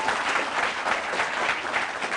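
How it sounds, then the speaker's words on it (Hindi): Steady, dense applause from a television studio audience during an Indian cricket talk show, loud and sustained with no voices over it. "कपिल देव जी के लिए एक बार फिर से जोरदार तालियां"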